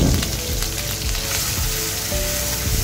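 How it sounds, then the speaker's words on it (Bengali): A spice masala of green chili paste, mustard paste, salt and oil is fried and stirred in a pan, giving a loud, continuous close-up sizzle with soft scraping underneath and no talking. "মশলাটাকে ভালো করে কষিয়ে নিব।"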